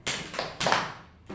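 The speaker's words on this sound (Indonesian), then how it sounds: "Tepuk semangat." A classroom of children doing the rhythmic 'tepuk semangat' clapping cheer, with short bursts of claps in a quick pattern, close and fairly loud.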